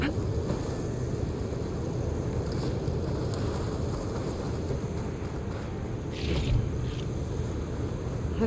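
Steady, loud wind rushes continuously through an outdoor scene in Horizon Forbidden West, a broad low roar with a slight swell near the end and no talking.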